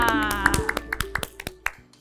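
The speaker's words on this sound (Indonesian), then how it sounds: "Oke, tepuk tangan dulu dong buat kalian semua." A group of children clap along at a kids' sermon, a run of separate, fairly close claps in loose rhythm over a soft musical backdrop.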